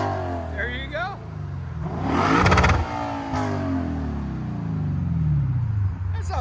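A 2015 Lexus RC F 5.0 V8 fitted with APEXi mufflers and a resonator delete revs hard toward redline in a couple of loud, close bursts that fall back to a rumbling idle.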